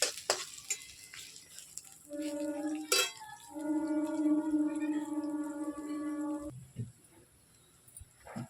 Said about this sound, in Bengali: পেঁয়াজ প্রায় ভাজা ভাজা হয়ে এসছে